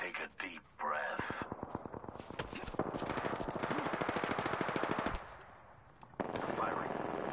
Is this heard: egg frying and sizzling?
no